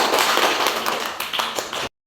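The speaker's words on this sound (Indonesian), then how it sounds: "Kasih tepuk tangan." A classroom breaks into applause, a dense, bright patter of many hands clapping together for about two seconds before cutting off sharply into silence.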